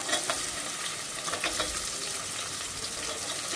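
Onions sizzle and crackle in hot oil for bangda fish curry, a close, steady frying hiss with small popping bursts and the occasional stir.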